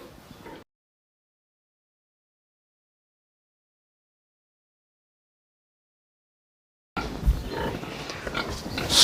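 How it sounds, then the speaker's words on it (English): Pigs grunting and squealing at a pig farm, heard in a short burst at the start and again loudly and continuously after a long silent gap. "you have seen pigs"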